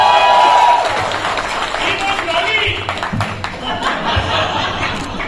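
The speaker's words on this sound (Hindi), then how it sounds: "एक बार जोरदार ताली चाहिए सिद्धार्थ के लिए" Audience applause at a Pathaan success press conference, clapping for director Siddharth Anand: a dense, sustained spread of claps with scattered chuckles, mixed with a voice speaking over the crowd throughout.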